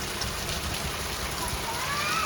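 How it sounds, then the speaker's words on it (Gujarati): Heavy rain falls in a hilly area, a dense, steady hiss of drops that stays unbroken and fairly loud throughout. "વરસાદ તો જો ભાઈ"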